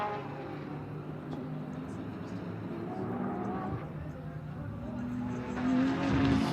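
GT race cars, including a Porsche and a BMW, run in the Indianapolis 8 Hour endurance race. Their engines make a continuous droning roar that swells slightly toward the end.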